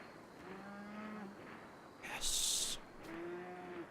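Cows moo in the Rimworld video game, two drawn-out lowing calls separated by a brief hissing burst, fairly faint against a soft background.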